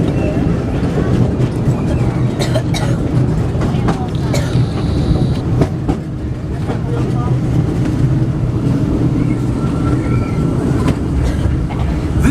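The Disneyland Railroad train rolls along its rails with a steady, loud rumble and rattle of the cars and occasional clicks and squeaks, heard from on board throughout.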